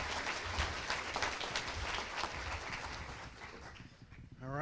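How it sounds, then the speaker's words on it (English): Audience applause at a school awards gala, dense and steady clapping from a large crowd that continues at even strength and begins to thin just before the end. "Let's give them one more big round of applause."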